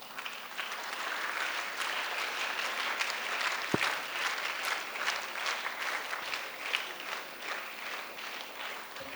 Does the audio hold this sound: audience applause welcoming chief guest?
yes